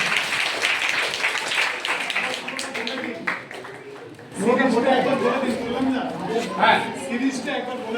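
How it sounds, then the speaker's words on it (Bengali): Applause from a school audience for two teachers at an Indian language camp event, a dense patter of clapping under continuous chatter and voices, growing fuller and louder halfway through. "স্বাধীন স্যার এবং জয়িতা ম্যামের জন্য একবার জোরে হাততালি দাও"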